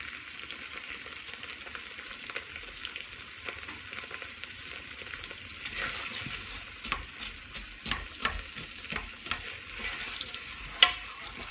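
Chopped vegetables fry in the pan of a Ninja 3-in-1 cooker for smothered pork chops, a soft steady sizzle with light scraping as they are stirred, quiet and close, and no talking.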